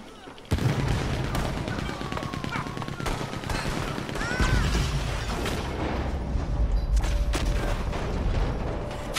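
Dense, rapid gunfire from Red Dead Online PvP keeps going almost nonstop, with bursts and booms layered together at a steady, loud level.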